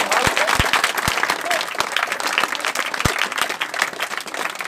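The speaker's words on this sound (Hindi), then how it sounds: "ताली जरा बजा दीजिए" An audience at an outdoor snake-charming show claps steadily and densely in a sustained burst of applause, with a few sharp louder claps up close.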